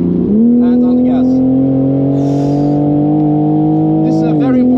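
A race car accelerates hard on the Nürburgring, its engine a loud, steady drone that climbs in pitch after a brief dip and holds close and continuous from start to finish, with a faint bit of speech over it.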